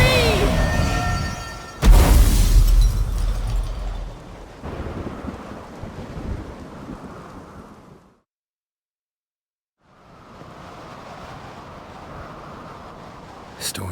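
A Skellige thunderstorm in The Witcher 3 opens with a sharp, loud thunderclap that rolls into rumbling wind and rain. It then drops to total silence for a couple of seconds before the rain and wind return.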